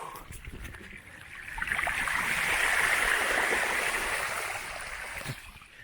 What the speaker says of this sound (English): I'm getting good at driving in water.